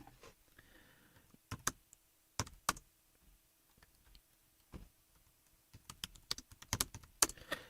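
Sporadic bursts of typing on a malfunctioning computer keyboard, quick clusters of clicks and key taps separated by quiet gaps, fairly close and moderately loud with no talking.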